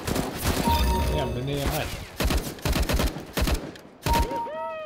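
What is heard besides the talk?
gunfire in the video game CS:GO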